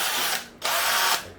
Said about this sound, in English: this is the drill machine